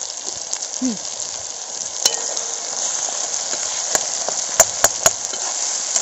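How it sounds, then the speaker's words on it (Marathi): Wet ground masala paste fries steadily in hot oil over a wood-fired village stove, a continuous close sizzle with a few sharp crackles and spatters near the end; no one speaks. "तेल चांगलं गरम झाल्यानंतर त्याच्यात ओला वाटलेला मसाला आहे तो त्याच्यामध्ये आधी मिक्स करायचा"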